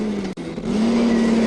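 A small car runs at speed on a test track during brake testing. A loud, steady engine drone with a whooshing roar dips briefly, then resumes and climbs slightly in pitch.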